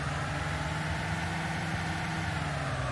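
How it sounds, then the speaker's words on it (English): A motorbike engine in the military game Arma 2 drones steadily with a dense, constant mechanical roar and no other sounds on top. "That's a motorbike there."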